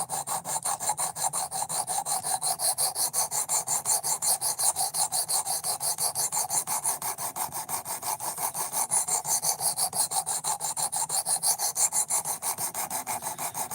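A knife being sharpened to a roughly 17-degree edge, heard as a long, steady run of rapid, even rasping strokes close up, with no talking.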